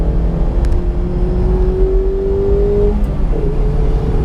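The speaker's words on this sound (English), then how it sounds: "This is full throttle. You use a lot of full throttle when driving this thing." A 2016 Mazda MX-5 Miata (ND) engine pulling hard at full throttle, its steady drone rising in pitch, then a brief dip and climb again as revs build toward redline, heard from inside.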